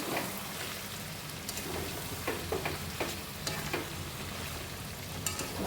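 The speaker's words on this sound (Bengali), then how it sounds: "এবার ভালো করে চিকেনের সাথে মিশিয়ে নিচ্ছি" Chicken being mixed with cashew and poppy seed paste in a pan, with a low steady sizzle and intermittent scraping stir strokes.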